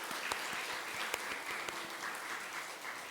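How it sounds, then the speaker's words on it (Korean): A church congregation applauds its choir during a Sunday morning service, a soft, even patter of many hands heard from a distance, quiet and continuous. "감사의 박수 한번 했으면 좋겠습니다."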